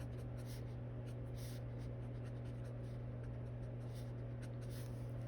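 A colored pencil scratches steadily across paper in soft, repeated strokes over a constant low hum.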